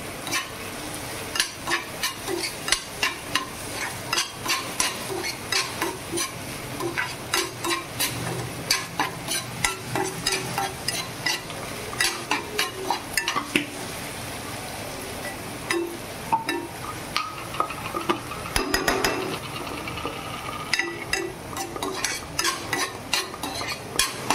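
Moth bean sprouts sizzle and fry in a pan with salt, stirred steadily with a utensil that scrapes and clinks against the metal throughout, a close, busy cooking sound with no talking.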